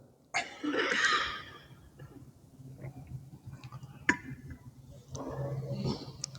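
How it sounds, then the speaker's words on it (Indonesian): A few coughs from one person in a quiet room, a longer bout at the start and another toward the end, with a click between. "Batuk kayaknya musim banget ya."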